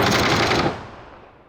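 A rapid burst of automatic gunfire in PUBG rattles loudly, then cuts off and fades into a brief decaying echo.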